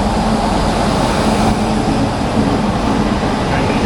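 A train ride to Nagaland from inside a carriage, with a loud constant rumbling roar of wheels on track and no clear talk.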